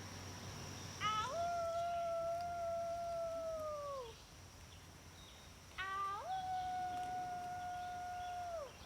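In the woods, a woman imitates a werewolf with two long, wavering howls, each lasting about three seconds. They are fairly faint and sound set back, with a quiet pause between them.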